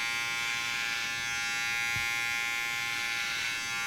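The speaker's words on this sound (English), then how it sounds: "I'm going to have my clipper all the way closed so it's 0, and really carefully just going down on the beard in this motion" Electric hair clipper set to zero, trimming a beard with careful downward strokes; a steady, close buzz runs alone throughout with no talk.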